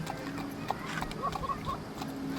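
A horse walks with a rider aboard, its hooves clip-clopping in a soft, uneven rhythm at close range, with faint voices in the background.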